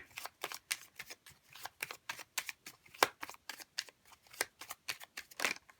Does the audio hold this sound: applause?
no